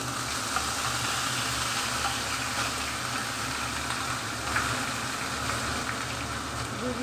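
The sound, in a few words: frying spice paste in mustard oil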